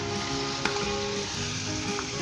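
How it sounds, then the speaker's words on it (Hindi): Chicken fries in ginger and garlic for a tomato chicken dish, a close, even sizzle with a brief clatter of stirring partway through. "मैंने अच्छे तरीके के साथ चिकन को भून लिया 10 मिनट के लिए अदरक लहसुन में।"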